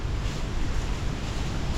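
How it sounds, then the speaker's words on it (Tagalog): Strong wind roars in a dense, steady rush, buffeting close to the microphone with a low rumble throughout and no voices. "Grabe yung lakas ng hangin, no?"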